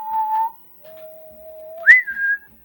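A person whistles a made-up whistle language during a tabletop D&D game, a few clear sustained tones that step down and then slide upward, close and loud, without talk.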